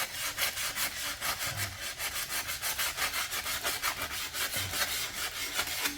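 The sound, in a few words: sanding a mountain bike brake disc rotor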